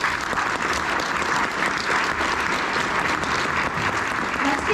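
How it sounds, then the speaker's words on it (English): A crowd at a civic event with elected officials claps steadily and loudly for Mayor Harvey in Chandler, a dense, sustained round of applause filling the room without a break. "Let's give Mayor Harvey a round of applause there"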